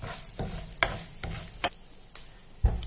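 Chana dal and urad dal with turmeric fry in hot oil, giving a soft continuous sizzle broken by repeated scraping stirs and sharp clinks of a spoon against the pan, close by.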